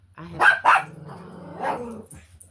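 Dogs in a residential neighborhood bark loudly and close, two sharp barks in quick succession followed by a lower growling bark and a final short yip.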